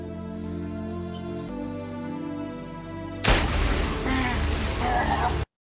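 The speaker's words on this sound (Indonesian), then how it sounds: "Kaya berhasil membuat Ray terkapar oleh pistol suar yang tepat mengenai kepala Ray" A flare pistol fires in a film scene, a sudden sharp bang cutting through sustained tonal music and giving way to a loud, noisy rushing burst that ends abruptly.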